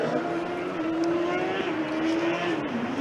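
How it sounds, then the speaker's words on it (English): Cooling fans on the Trondheim Formula Student electric race car at an endurance event give a steady, fairly loud whirring drone with a sustained tonal hum that dips slightly near the end. "we can clearly hear the cooling fans on the car from Trondheim"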